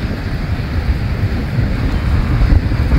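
Strong wind buffets an outdoor microphone in a steady, loud low rumble with gusty surges that build toward the end, no voices present.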